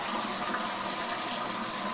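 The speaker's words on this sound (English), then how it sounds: "I always like to have a little cold water running in the sink." Cold water runs steadily from a kitchen sink tap, a constant broadband splashing gush that stays level and close throughout, with no voices.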